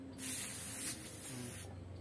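Air hisses out of a car air-conditioning line during a refrigerant (freon) refill, a soft, close spray-like rush lasting about a second and a half before fading.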